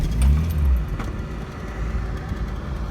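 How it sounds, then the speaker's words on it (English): An Austin MK1 Mini Metro car engine rumbles steadily at idle after starting, low and close, with a brief rattle near the start and no talking. "I'll start the car and you can hear exactly how she sounds when I start her in the morning."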